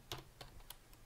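Fingers tap on a computer keyboard at close range in a few quick, light clicks with brief gaps between them.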